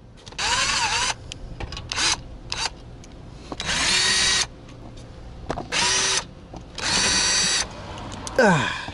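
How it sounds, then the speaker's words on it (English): Power drill backing out Torx T30 screws from an underbody shield on a Lincoln MKZ during an oil change: loud, close whirring bursts of varying length, separated by short gaps, with a rising whine at the end. "I'm going to need to remove these 11 Torx T30 screws from this shield."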